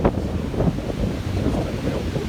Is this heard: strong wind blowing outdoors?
yes